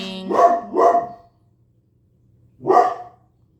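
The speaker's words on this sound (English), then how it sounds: "Oh, another dog barking." A dog barks close by inside a home: two quick barks in succession, a pause of silence, then a single third bark.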